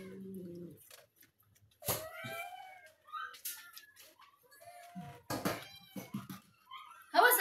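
A cat meows several times, short and medium-pitched, spaced out over a quiet room, with a voice talking intermittently between the cries.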